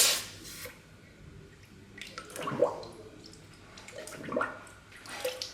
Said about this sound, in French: je prends mon tube cuir avec la pince multiprise pour le plonger dans l'eau pour le refroidir